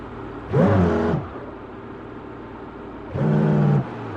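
Car revving hard while accelerating at full speed in a pass under a red height-measuring pillar, two short loud engine bursts with rising pitch separated by a quieter idle-like stretch.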